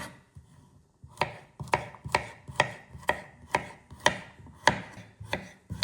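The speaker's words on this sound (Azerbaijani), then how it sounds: "Digər tərəfdə 2 ədəd xiyarı da kub şəklində doğrayıram." Large cucumbers chopped into cubes on a cutting board for a salad, a steady series of about a dozen crisp, close knife strikes at an even rhythm after a brief quiet start.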